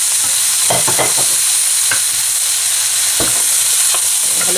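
Fried squid for salt and chilli squid stirred in a hot pan, with a steady sizzle broken by repeated scraping and clanking strokes of the utensil, close and fairly loud.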